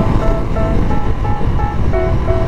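A CFMOTO 250SR motorcycle picks up speed, its engine a steady loud drone with rising tonal steps as the revs climb and shift, carried under heavy wind rush.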